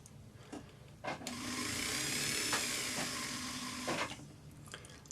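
A 1 mm bit drills through the bail of a hammered metal pendant held flat against a bench peg, giving a close, sustained whirring grind of a few seconds, with quieter handling noises before and after.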